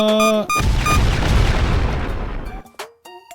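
Bombs exploding in a Roblox game: a deep, loud boom rolls out and slowly fades, with tonal game sounds and beeps at the start and end.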